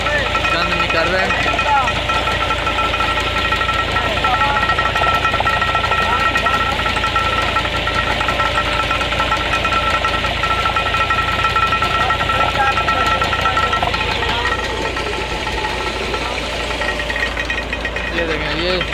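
A Massey 240 tractor engine drives a sugarcane crusher in a village, giving a loud, steady rumbling drone with a knocking churn that runs continuously and eases slightly near the end.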